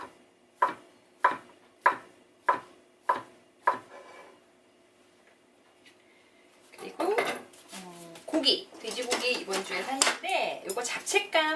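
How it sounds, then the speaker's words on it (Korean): A knife cuts fish cake into thin strips on a cutting board for japchae, giving five evenly spaced, crisp chops close by. Several seconds of quiet follow, then busier kitchen clatter and handling noises. "어묵도 한번 채 썰어 볼게요"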